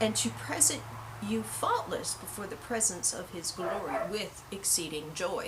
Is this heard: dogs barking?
yes